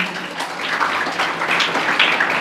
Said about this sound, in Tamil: அதுக்காக ரெண்டாவது கைதட்டு